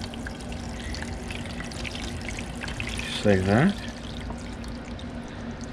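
Water pours briefly into a coffee maker's reservoir with a short rising gurgle. Someone talks quietly before and after the pour.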